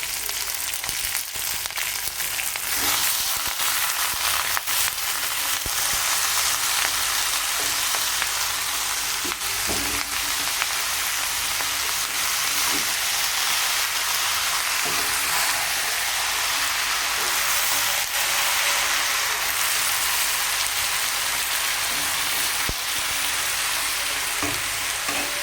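Onions, cabbage and green chili fry in a pan with a loud, continuous close sizzle, a dense crackling hiss that holds steady for the whole stretch with small pops and stirring scrapes.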